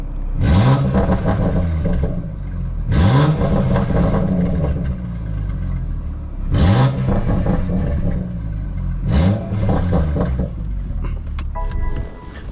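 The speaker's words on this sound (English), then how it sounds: "Let me give you guys some revs of it." A tuned 700 hp BMW M340i engine with a blown motor revved hard four times, each roaring up and dropping back to a rumbling idle between bursts, loud and close.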